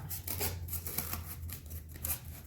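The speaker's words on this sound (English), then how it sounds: "Get your scissors, cut your circle out." Repeated crisp snipping of scissors through paper, a steady run of short cuts close to the microphone with a low hum underneath.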